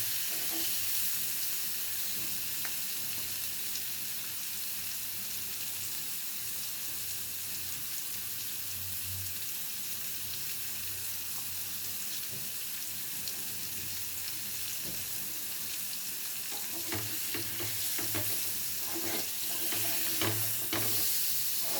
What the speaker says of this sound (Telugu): బాగా వేగనిచ్చుకోవాలి.